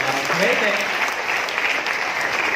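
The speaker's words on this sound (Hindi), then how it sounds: "इनके लिए जोरदार ताली होनी चाहिए" Loud, dense audience applause at a direct selling business meeting, a continuous crowd of clapping hands that stays even throughout, with a faint voice briefly heard underneath.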